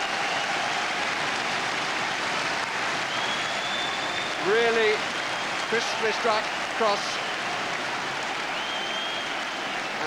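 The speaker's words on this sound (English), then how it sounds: "Ferdinand takes the applause." Football crowd at a Queens Park Rangers versus Swindon Town match applauding and cheering after a headed goal from a cross, a steady broad roar of applause throughout with a commentator talking over it.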